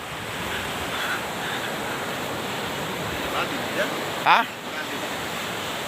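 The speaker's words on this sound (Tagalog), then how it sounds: "Dito mo laki ng alon, halos ubusin na yung ano, yung buhangin." Ocean waves break and wash up onto a sandy beach in a steady, loud roar with wind noise, while a voice makes a brief exclamation near the end.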